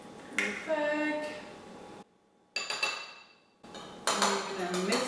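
An egg is mixed into cookie dough in a bowl for paleo chocolate chip cookies, heard as close, bright clinks and scrapes of a utensil against the bowl in bursts separated by brief silent pauses.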